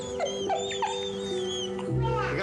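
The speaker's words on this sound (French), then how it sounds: "Regarde voir ici, là. C'est le chien." Dog whimpering in short high yips and whines beside a ravine edge, close and moderately loud, repeated several times under ongoing low background sound, with a muffled thump near the end.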